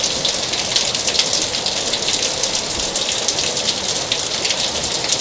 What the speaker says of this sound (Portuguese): tá vendo a chuva?